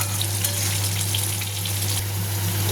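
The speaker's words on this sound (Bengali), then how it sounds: "এইভাবে সুন্দর করে এটাকে কষিয়ে নিতে হবে।" Spice masala for a katla fish curry fries in hot oil with a loud, continuous sizzle and crackle right up close, steady for the whole stretch with no voices.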